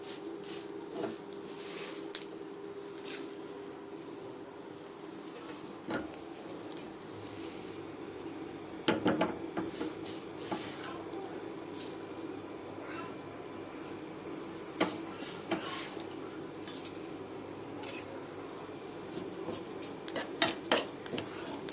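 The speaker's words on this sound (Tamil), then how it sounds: "இப்போ நான் அடுப்பில் வறுத்து எடுக்கிறதுக்கு கொஞ்சம் எண்ணெய் போதும். இதை நம்ம அப்படி வறுக்க போகிறோம்." Ingredients roast in a little oil on a stovetop, with faint, steady sizzling and occasional light scrapes and clicks from a spoon or pan over a long stretch, and no talk.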